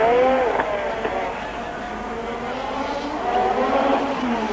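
A Renault-powered Tyrrell 015 Formula 1 car at Monaco rounds La Rascasse, its high engine note rising and falling through the corner, heard at moderate distance over crowd and ambient noise.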